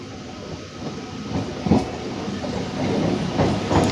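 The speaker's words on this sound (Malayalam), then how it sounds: "നമ്മളെ പോലത്തെ വേറൊരു ലോക്കൽ ട്രെയിൻ അങ്ങോട്ടേക്ക് പോകുന്നത്" Another local train rolls past near a loco shed in Chennai, heard from a moving train with rhythmic clickety-clack over a steady rumble, growing louder toward the end.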